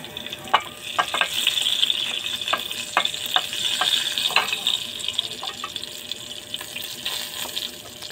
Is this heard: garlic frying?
yes